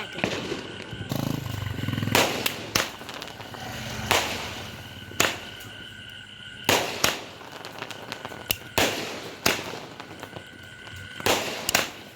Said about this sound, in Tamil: இப்போ நம்ம வெடி வெடிக்க போறோம், பவுட் வெடிக்க போறோம்